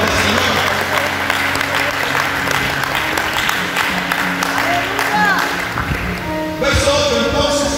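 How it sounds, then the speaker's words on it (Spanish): A church congregation applauds with sustained, loud, dense clapping that runs throughout, with voices and musical tones mixed in. "Un aplauso al Rey de Reyes y Señor de Señor"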